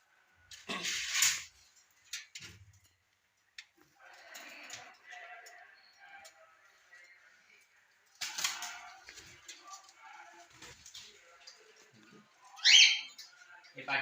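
Pet birds, a cockatiel and a pair of budgerigars, give brief, sharp chirps and squawks in a quiet room. Short bursts come near the start, in the middle and near the end, with soft talking between them.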